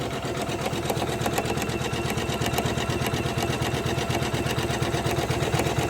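A Janome 500e embroidery machine stitches a Christmas tree ornament with a fast, steady mechanical chatter of needle strokes, close and continuous throughout, with no voices.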